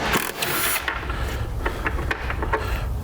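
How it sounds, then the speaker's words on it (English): A 10mm socket wrench loosening tail light bolts on a vehicle gives a close, steady run of rasping ratchet clicks, with no talking. "So we're going to take our 10mm socket."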